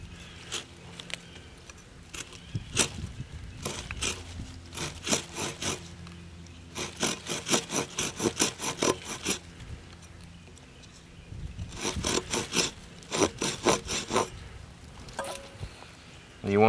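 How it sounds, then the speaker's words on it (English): A hand saw cuts through wood for a live-game box trap, with rapid rhythmic back-and-forth rasping strokes in several bursts separated by brief pauses, close and fairly loud. "you keep sawing until they do"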